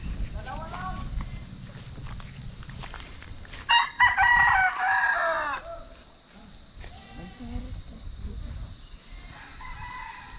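On a chicken farm, a rooster crows once loudly in the middle while hens cluck softly around it, over a constant high insect-like hum and background rustling.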